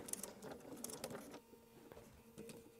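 A sewing machine runs steadily as it stitches along the edge of a jacket zipper, its mechanism whirring with a soft rhythmic clatter. It dips briefly partway through, then picks back up.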